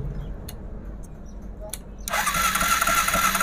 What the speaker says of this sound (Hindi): बाइक का सेल्फ दबाओ